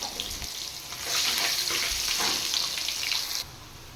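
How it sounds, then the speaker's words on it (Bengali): Chopped onion fries in a pan, giving a steady, close hiss and sizzle that swells and holds, with faint clinks of stirring and no talk. "এবার আমি কুচিয়ে রাখা একটা পেঁয়াজ একটু ফ্রাই করে নেব।"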